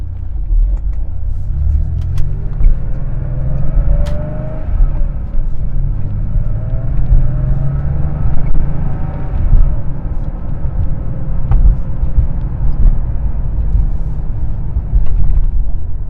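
The engine of a classic Porsche 911 drones as a low, steady rumble from inside the moving car, with faint shifting engine tones over continuous road noise.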